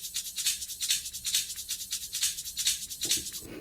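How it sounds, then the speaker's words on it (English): A percussion loop from a music production track repeats steadily, crisp shaker-like hits pulsing in an even groove at low level, heard alone without talk. "So now I add in the percussion loop,"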